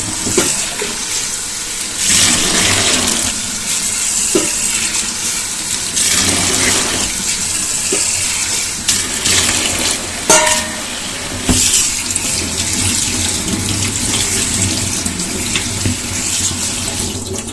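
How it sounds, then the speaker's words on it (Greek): A tap runs steadily with water splashing in a sink as boiled wheat is rinsed, punctuated by occasional clinks and knocks. "Θα ξεπλύνουμε με άφθονο νερό"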